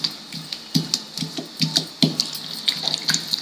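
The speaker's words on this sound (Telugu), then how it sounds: "కొంచెం వాటర్ కూడా వేసుకుని నూరుతారండి" Masala paste being ground with a little water on a traditional grinding stone, giving repeated wet, splashy scraping strokes in an uneven rhythm, close and moderately loud.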